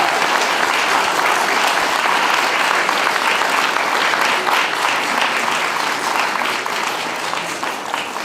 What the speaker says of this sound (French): Je voudrais que vous recommenciez pour eux à les applaudir.